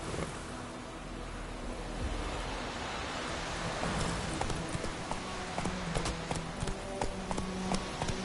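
Hooves of Roach, a horse in a video game, drum at a gallop under a steady rush of wind or surf-like noise, moderately loud and fairly close.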